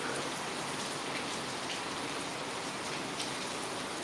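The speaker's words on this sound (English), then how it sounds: "You can hear the rain" Rain falling outside, a soft continuous patter of drops on surfaces heard at a moderate distance, steady and even with occasional slightly louder drips.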